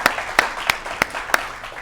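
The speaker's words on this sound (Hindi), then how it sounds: "उनका हम सभी तालियां बजाकर स्वागत और सम्मान करते हैं" Audience applause welcoming a poet on stage at a televised Kavi Sammelan patriotic poetry event, heard as a steady wash of clapping with five sharp, evenly spaced claps standing out across about two seconds.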